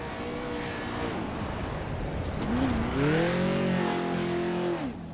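A race car on an oval track in the iRacing sim drones steadily and closely, its engine pitch climbing and wavering as it accelerates down the main straightaway, with no talk over it.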